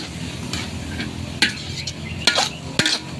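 Food being stirred in a pan in a home kitchen, with a low sizzle throughout and a few sharp scrapes and clinks of utensil on metal.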